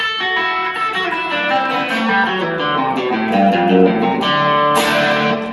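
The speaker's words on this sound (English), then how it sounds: "that has this cascade effect lick, meaning when those sort of like rings on top of each other" A fast guitar lick using open strings, overlapping notes ringing into one another in a cascading run, played alone with a bright, sustained tone.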